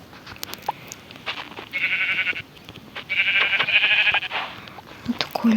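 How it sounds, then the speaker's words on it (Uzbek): Sheep bleating in a Minecraft-style one block video game, two sustained blocky bleats in quick succession, fairly loud and close, with soft game clicks and small sounds around them. "Qo'ylar ko'p tushyapti."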